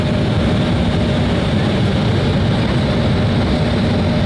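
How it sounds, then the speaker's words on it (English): An airplane landing at an airport in Hungary, with a steady, loud low engine and rolling roar that runs continuously through the whole stretch and carries no distinct impact. "And we have a nice touchdown."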